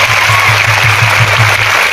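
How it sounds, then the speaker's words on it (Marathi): Applause from a large crowd at an outdoor political rally and public meeting in Parli Vaijnath, a steady dense clatter of clapping that fills the whole moment without letting up, close and loud. "टाळी वाजायची तर मनातून वाजायची जोरदार."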